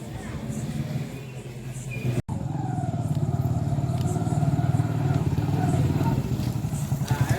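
A motorcycle engine runs close by with a steady puttering pulse that grows slightly louder after a brief cut near the start.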